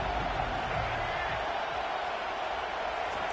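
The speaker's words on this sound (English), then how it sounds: "this crowd trying to help keep them there" A football stadium crowd roars in a steady, broad wash of noise. It sits under faint commentary and stays even throughout.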